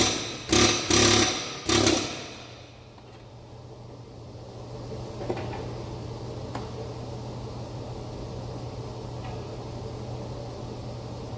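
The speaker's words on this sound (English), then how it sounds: "that comes up to the air hammer" Three quick, loud bursts of an air hammer loosening a nut on a 1994 Jeep Grand Cherokee near the start, then a steady mechanical hum with a couple of faint knocks.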